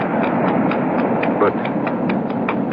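A horse gallops along an ocean shoreline in an old-time radio mystery drama, its hoofbeats landing in a steady, even rhythm that is loud and close and continues throughout.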